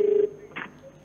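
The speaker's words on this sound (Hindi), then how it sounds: "उन्होंने फोन उठा लिया है।" A short electronic telephone tone sounds at the start of an outgoing phone call, then stops as the line connects and leaves only faint line noise with a soft click.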